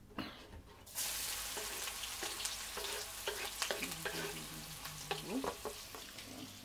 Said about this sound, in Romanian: Călim ceapa.